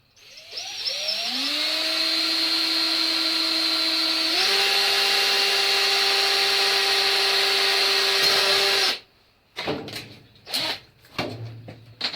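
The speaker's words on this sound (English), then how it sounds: "A little pilot hole in." A power drill bores a small pilot hole while LED indicators are fitted to a Thunderbird Storm motorcycle: the motor spins up to a loud, steady whine, shifts pitch slightly midway, runs about eight seconds, then stops, followed by a few handling clunks.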